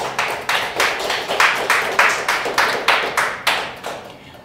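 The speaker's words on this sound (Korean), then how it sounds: "하나님께 영광의 박수." A church congregation at a Christmas service claps in unison, a loud, rhythmic run of about ten sharp clap bursts spaced roughly half a second apart, close and clear.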